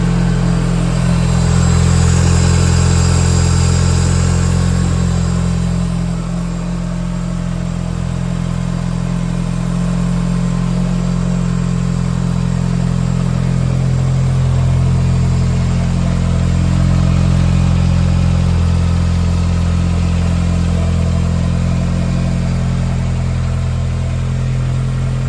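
A Mitsubishi Evo engine runs with its turbo kit removed, a loud, steady low idle drone with slight swells in revs, close and continuous with no talking.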